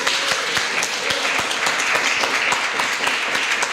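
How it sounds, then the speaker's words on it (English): A congregation at a church anniversary service breaks into sustained applause, many hands clapping in a thick, even wash of sound that stays loud and unbroken from start to finish. "We give God a round of applause."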